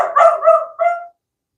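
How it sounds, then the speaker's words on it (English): A dog barks twice up close, a loud yelping bark followed by a shorter second one, then silence. "I'm sorry about the dog."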